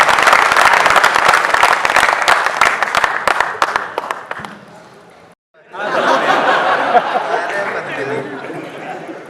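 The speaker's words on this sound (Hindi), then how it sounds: "मैं चाहता हूं कि पद्मिनी के लिए जोरदार तालियां बजाएं" Audience at a Hindi comic poetry gathering claps loudly, with scattered laughter and chatter. The applause fades and breaks off briefly, then swells again to a full, sustained round.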